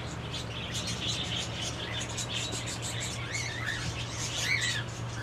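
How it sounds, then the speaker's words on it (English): Native Australian birds, including a cockatiel and parrots, in an outback aviary behind a pub, chirping and whistling continuously at moderate distance over a low steady hum. "And the cockatiel. These are all native birds."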